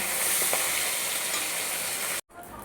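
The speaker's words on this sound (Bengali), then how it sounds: "এখানে আমার মাছটা একদম ভাজা হয়ে গেছে" Fish fries in hot oil with a dense, steady close sizzle, then cuts out abruptly and resumes more quietly.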